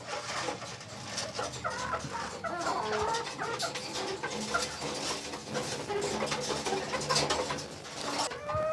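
A flock of chickens clucks and chatters continuously nearby, overlapping calls with occasional louder squawks and soft cooing in the background.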